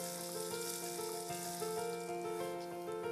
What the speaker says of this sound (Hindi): तो ये मिर्ची और गार्लिक का पेस्ट धीरे धीरे भूनना है इसको।